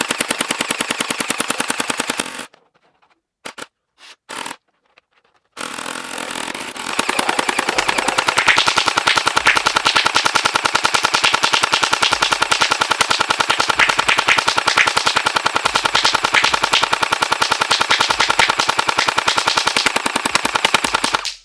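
Rapid automatic bursts from a Gel Blaster Surge 2 XL toy gel blaster, loud and continuous, broken early by a jam into a few short stuttering bursts before sustained full-auto fire resumes.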